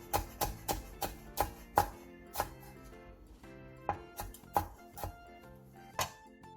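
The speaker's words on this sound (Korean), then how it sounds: "씨를 털어낸 청양고추는 쫑쫑 썰어주세요" A knife chops seeded Cheongyang chili peppers finely on a cutting board. The sharp, close taps come in an uneven rhythm, several in quick runs, with brief pauses between them and no talk.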